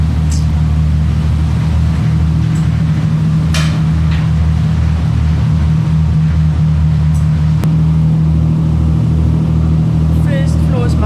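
Car engines run on the lower deck of an Amazon river boat, where the first floor is mostly cars. A loud, constant low drone carries a steady engine hum, with scattered knocks and clanks and some voices in the background.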